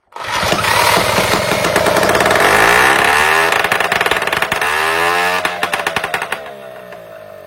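A Solex moped engine with a newly fitted adjustable carburettor jet catches and starts, then runs loud and steady close by with a harsh buzzing note, sputtering and stumbling unevenly near the end.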